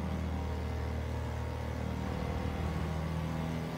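A Honda Civic Type R EK engine in Gran Turismo 7 hums steadily at high revs, a continuous mid-pitched drone with a rumbling undertone at even loudness throughout, with no talk.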